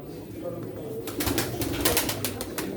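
Pigeons coo softly in the background at a pigeon auction in Çorum, mixed with bursts of rustling, fluttering and bidders talking nearby.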